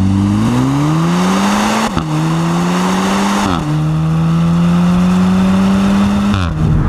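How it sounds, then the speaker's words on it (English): A 2017 VW Golf R with a DSG gearbox revs hard through several upshifts, its pitch climbing then dropping at each change, with brief exhaust pops between gears, loud and close throughout. "And you get that nice pop, pop, pop exhaust sound,"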